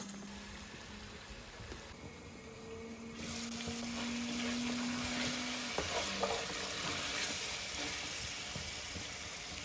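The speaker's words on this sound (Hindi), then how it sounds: "इसको 5-6 मिनट हम भूनेंगे कवर कर करके" Chicken sizzles and fries in a covered pot for pulao, a steady hiss of frying that grows louder midway, with faint clinks and no voices.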